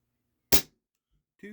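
An HFC DarkHawk 6mm gas blowback airsoft pistol running on propane with 0.30 gram aluminum BBs fires one sharp, loud crack with a short decay, followed by a short voiced sound a moment later.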